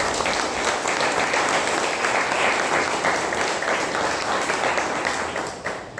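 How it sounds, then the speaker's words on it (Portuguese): A church congregation applauds during a worship service, dense, sustained clapping heard throughout at steady volume and tapering off at the very end. "Dá uma salva de palmas para o Senhor Jesus"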